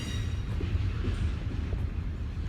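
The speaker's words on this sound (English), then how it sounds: "I am about to walk underneath this train." Low, rumbling train noise rolls steadily overhead as it passes above a walkway, a continuous heavy hum with faint clanks, moderately loud and close.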